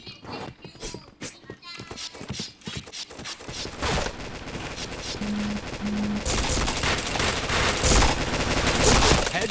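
Rapid gunfire bursts in a shooting video game, crackling shots clustered over a steady bed of game noise that thickens and grows louder toward the end, with voices talking faintly underneath.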